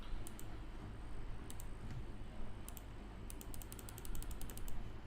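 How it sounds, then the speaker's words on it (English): Computer mouse clicks during an online chess broadcast: quick, faint, sharp ticks in small bursts and one rapid run near the end, heard over steady low background hum. "A lot of mouse clicking sound is coming."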